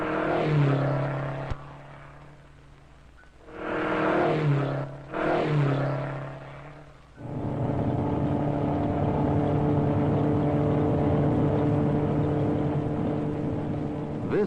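The engine of Ford's 1962 Mustang I concept car drones in bursts, cutting off twice before settling into a loud, steady run that lasts to the end.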